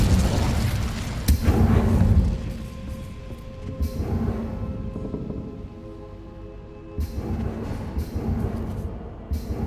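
An Incendio fire spell cast in Hogwarts Legacy bursts with a loud whooshing boom, then a softer rumble and a second burst near the end.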